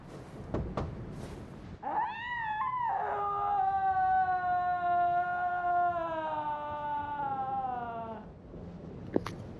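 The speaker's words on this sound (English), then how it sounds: "Why does the entrance scream every time?" In the video game Bloodborne, a long, wavering scream rises at an entrance and holds for several seconds, eerie and tonal, with a few sharp clicks before and after it.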